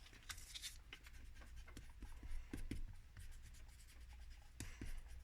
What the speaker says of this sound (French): vous pouvez gommer vos traces de crayon de papier